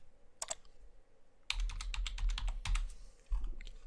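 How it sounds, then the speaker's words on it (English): A burst of rapid computer-keyboard typing in a search bar, close and crisp, with a couple of sharp clicks first and then a quick clattering run of keystrokes with brief pauses, no voices. "I'll open the book by typing pulpit in the search bar."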